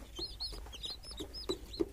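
An Asil rooster in Lucknow gives soft, low clucks in a short irregular series, fairly quiet, with high chirps of small chicks scattered around it.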